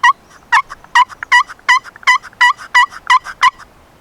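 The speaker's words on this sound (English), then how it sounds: "all you got to do for a box call, it's a friction call" A wooden box call gives out a steady run of about ten sharp, raspy turkey yelps, evenly spaced and loud, with nothing else behind them.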